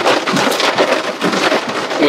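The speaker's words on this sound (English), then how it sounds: "It is pouring rain." Heavy pouring rain drums steadily and loudly on a vehicle while driving near Statesville, North Carolina, a dense continuous wash of sound.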